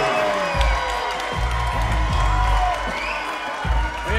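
A large arena crowd roars and cheers for fighter Anton Potocki, a dense, steady wall of noise with swelling shouts and whoops, heard near and loud throughout.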